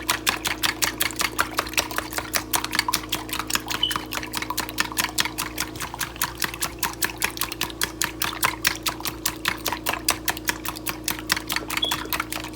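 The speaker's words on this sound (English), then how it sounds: "Get that mixed up very well." Whole milk mixture for a potato gratin being whisked briskly in a bowl, a steady rapid rhythm of clicking strokes that carries on evenly and up close with no talk.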